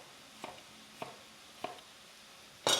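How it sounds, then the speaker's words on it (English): Knife chopping a red pepper into chunks on a cutting board, three separate crisp chops spaced evenly, then a louder clatter at the end. "And then I'm gonna process this pepper."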